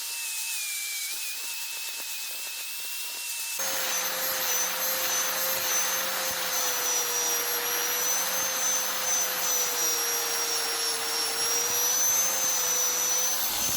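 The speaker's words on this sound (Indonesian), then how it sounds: "Nah ini kita amplas tujuannya itu biar menggantikan lapisan yang lama ya ke lapisan yang baru gitu" Steady mechanical whine of a power sander working a survival knife blade, a continuous high tone with a hissing grinding wash that grows louder and fuller a few seconds in and holds to the end.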